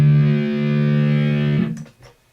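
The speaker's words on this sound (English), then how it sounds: "where you switch from a distortion sound" An electric guitar with a distortion effect holds a sustained, buzzy chord for about a second and a half, then cuts off into a few brief muted scratches, loud and close with no talk.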